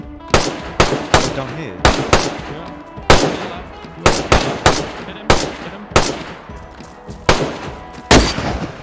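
Rapid bursts of automatic gunfire crackle in DayZ, about a dozen sharp loud volleys spaced roughly half a second to a second apart, with brief voices talking between shots.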